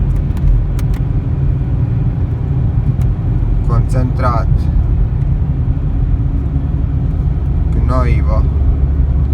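A Volkswagen Caddy van's engine hums steadily while driving, a continuous low rumble with road noise throughout, and someone talks briefly over it.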